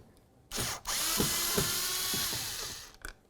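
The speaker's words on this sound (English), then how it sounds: "you're going to find 2 Phillips head screws. Remove them." A power screwdriver or drill running in one long whirring burst, close and fairly loud, as Phillips head screws are removed from the side mirror of a 2002-2006 Honda CR-V, with a brief click before and after.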